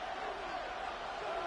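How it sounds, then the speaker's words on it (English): Stadium crowd noise in the football game Madden 26, a steady broad roar of a distant crowd holding at an even level throughout. "Crowd noise rises."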